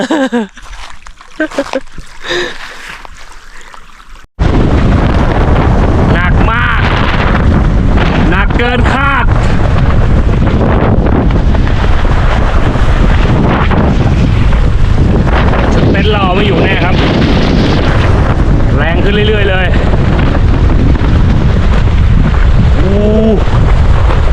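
Strong storm wind roars loudly and constantly, buffeting the microphone, with rumbling gusts that may include thunder. A quieter passage at the start gives way to this sustained blast, and someone talks through much of it.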